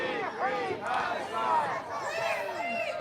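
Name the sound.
protesters chanting at an Al-Quds Day rally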